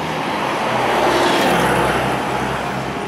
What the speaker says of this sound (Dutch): Hier hebben we nogmaals de bus 10 die langskomt.